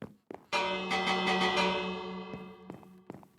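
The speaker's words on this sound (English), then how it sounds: "Ring the bell for good luck." A village bell in Minecraft rings in several quick strikes with a bright metallic tone, then decays, followed by two fainter tolls near the end.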